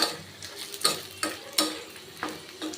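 Garlic for a garlic chutney sautéing in a pan while a spatula scrapes and taps through it, making a few distinct clicks over a low sizzle at close range.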